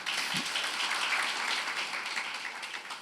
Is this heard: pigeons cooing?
no